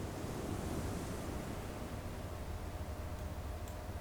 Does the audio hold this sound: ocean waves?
yes